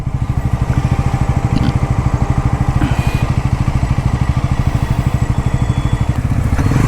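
A Bajaj Pulsar NS400Z motorcycle rides through city traffic in road mode, its engine throbbing in a close, steady rapid pulse throughout, with faint traffic noise and a brief horn-like tone in the background.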